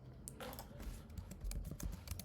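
Quiet clicking of keys as someone types a short line on a computer keyboard, a soft, fairly steady patter of keystrokes close by with no voice over it.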